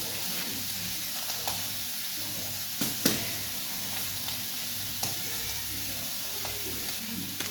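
Food sizzling steadily in a pan while a cheap student meal cooks, with a continuous soft hiss and a few brief louder crackles and clatters.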